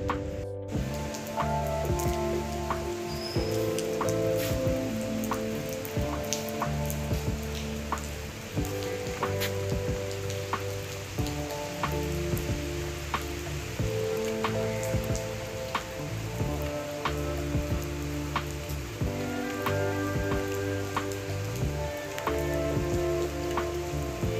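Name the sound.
rain falling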